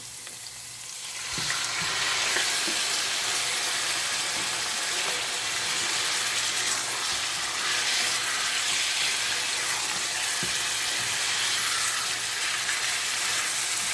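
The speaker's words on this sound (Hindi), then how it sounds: "तो इसको मैं चिकन के साथ ही फ्राई करूँगी" Garlic and chicken fry together in a pan for a Pakistani-style achar gosht, a loud continuous sizzle with a few stirring knocks that runs unbroken throughout.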